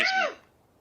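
A single short, sharp sneeze, close and fairly loud, quickly fading to quiet.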